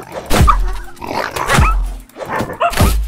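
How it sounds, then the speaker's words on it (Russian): In the CardLife video game, a dog barks repeatedly, three gruff, loud barks spaced about a second apart with a low rumbling tail after each, heard close and alone. "Еще один пес!"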